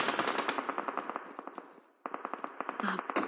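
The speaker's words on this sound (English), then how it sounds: "But here they are, under gunfire right now." Gunfire in the PUBG Mobile battle royale game during a SEA Games esports team match: rapid automatic bursts of shots, sharp repeated cracks with a brief lull, over faint commentary.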